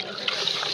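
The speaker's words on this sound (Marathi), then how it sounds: "पाणी टाकतो" Water poured into mutton cooking over a village wood-fired stove, tribal Konkan style, at a fair: a short, close splash and trickle lasting under a second.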